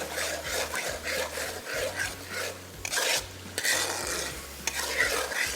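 A walnut dish being stir-fried in a kadhai over high flame: a spatula scrapes in quick, rhythmic strokes against the pan under a steady sizzle, close and without talking.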